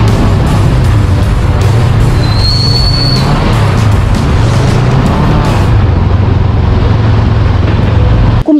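A Honda Rebel 500 motorcycle with an aftermarket exhaust rumbles loudly up close, a deep throbbing engine note with a sharp rising whine partway through, before it suddenly cuts off near the end.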